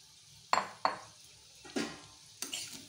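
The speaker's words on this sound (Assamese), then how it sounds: "আৰু এইখিনি ধুনীয়াকৈ লাৰি দিওঁ।" A utensil stirs fried coconut mixture in a pan, giving four separate metallic clinks and scrapes, close and fairly crisp, over a quiet background.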